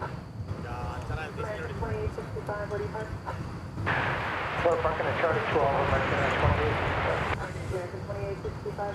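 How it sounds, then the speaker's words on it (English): An airliner lands far off on a runway at Dallas Fort Worth airport, a broad distant engine roar under wind noise, while people talk throughout. "So there it is, landing over there, way over on runway 17 left."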